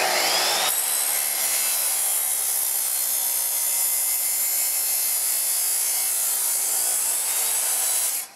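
Box steel being cut for a racing mower rebuild: a steady, harsh, continuous cutting noise starts abruptly, holds at an even level for about seven and a half seconds, then stops, with no talking.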